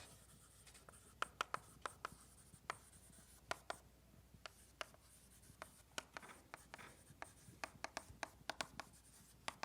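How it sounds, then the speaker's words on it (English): Chalk or marker writing out a theorem on a classroom board during a doctoral numerical methods lecture, with sharp, irregular taps and strokes close by over a quiet room and no talking. "you can write the theorem like this."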